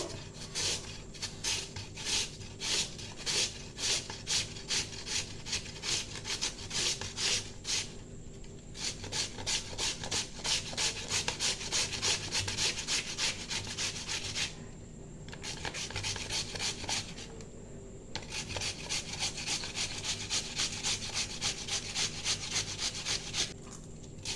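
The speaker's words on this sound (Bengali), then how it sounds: "এই গ্রেটারের সাহায্যে আমি আলুগুলো ঘষে নেবো" Peeled potatoes rubbed against a hand grater for jhuri aloo bhaja, making steady rapid rasping strokes in close, rhythmic bursts with two brief pauses, with no voices.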